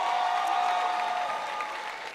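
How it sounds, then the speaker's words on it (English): A commencement crowd at Miles College applauds the graduating class of 2023, a steady wash of clapping from many hands with a sustained high cheer or whistle running over it. The applause fades slightly toward the end. "Big round of applause."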